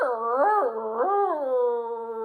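A person imitates a dog howl with a loud, sustained wavering vocal tone that rises and falls twice before settling into a long, steady note, heard alone close up.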